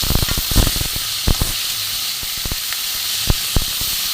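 Chopped tomato and green chillies hit hot spiced oil in a pan, giving a loud steady sizzle with scattered sharp crackles and pops, no voices.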